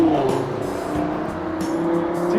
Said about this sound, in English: Nice green, lime green Ferrari cruising past.